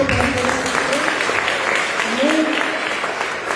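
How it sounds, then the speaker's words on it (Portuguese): A church congregation applauds steadily, a continuous wash of clapping under loud voices and worship sounds throughout. "Você pode aplaudir ao Senhor"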